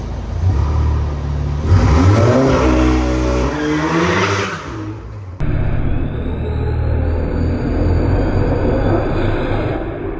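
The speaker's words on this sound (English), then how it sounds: "we're gonna do a little launch here in the garage. We're gonna see what kind of wheel spin we have going on." A tuned stage 2 VW Golf R Mk7 launches hard inside a garage, its engine revving sharply up with tires spinning, then cutting off abruptly before a second burst of engine noise; loud and close.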